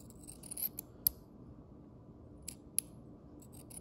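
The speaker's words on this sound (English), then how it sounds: "Make sure you get toward the back of your scissors or whatever you're using to cut so it doesn't just bend." Scissors snipping a frog lure's rubber skirt, a few crisp separate clicks and snips with pauses between, close and quiet in an otherwise still room.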